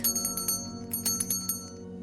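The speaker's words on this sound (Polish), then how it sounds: "Dodaj dzwoneczek." A small bell fitted to a handmade miniature doll rattle, painted to look like old bronze, jingles in a quick series of bright, rhythmic shakes with a steady background hum underneath.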